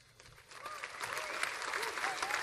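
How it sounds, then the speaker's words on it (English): Audience clapping at a UFC Fight Night press Q&A in Sydney, building from scattered claps into steady applause, fairly quiet, with voices and whistles mixed in. "you can clap, it's okay."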